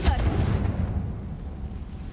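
A Confringo fire spell in Hogwarts Legacy detonates with a loud, close boom and dense rumbling burst, then decays into a smeared roar over a couple of seconds.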